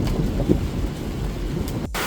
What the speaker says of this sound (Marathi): पाऊस चालू झालेला आहे आता नॉर्मल